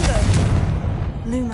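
A Confringo fire spell blast in the Hogwarts Legacy video game, a loud booming burst with rumbling low end that fades over about a second and a half.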